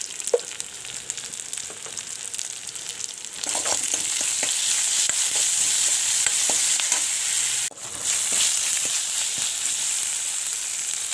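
Onions fry in a pan with ginger-garlic paste and salt, a steady close sizzle with faint stirring scrapes that swells louder after the first few seconds and dips briefly near the end.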